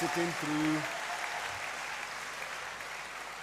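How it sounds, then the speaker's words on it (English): Audience applause at a university congregation graduation ceremony in a great hall, a moderate, even patter of many hands that follows a brief spoken voice and continues steadily at a distance. "I think you all deserve a big round of applause for"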